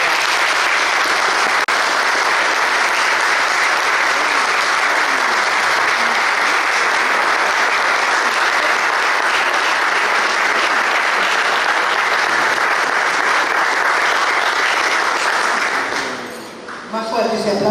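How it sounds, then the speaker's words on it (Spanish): Sustained, loud applause from a large audience at a tribute event in the UCR provincial committee hall in Buenos Aires, a dense roar of clapping that holds steady for a long stretch before tapering off near the end. "Más fuerte ese aplauso porque es un placer."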